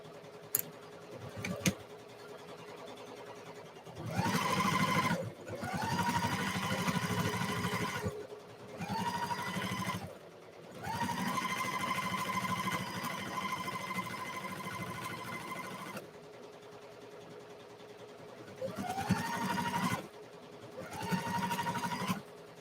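A sewing machine stitches fabric for small-shop Etsy orders in several bursts, each a few seconds long, separated by brief pauses, with a steady motor whir and close, fairly loud needle chatter, and no talking.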